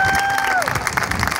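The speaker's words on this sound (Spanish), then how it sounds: "Un aplauso para los vaqueros" Brief burst of audience applause at a university Charro Days celebration in Brownsville, Texas, steady crowd clapping just after a voice trails off at the start.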